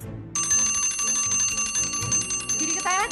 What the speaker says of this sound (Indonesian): Buruan tuh, udah bel.